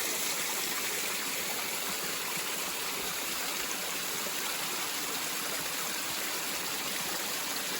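A river flows steadily across a creek bed that doubles as a hiking trail on the Appalachian Trail, its broadband rushing wash continuous and close, with no voices.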